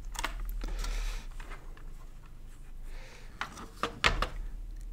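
Keys on a ZX Spectrum+ keyboard are pressed one after another during testing, giving sparse, irregular clacks and taps at close range with quiet pauses between them and no talk.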